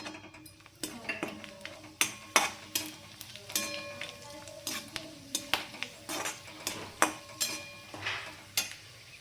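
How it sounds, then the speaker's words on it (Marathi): Grated coconut fries in a pan on medium heat: a quiet background sizzle broken by frequent sharp scrapes and clinks of a spoon stirring against the metal pan. "किसलेलं खोबरं ते पण फ्राय करून घेऊया।"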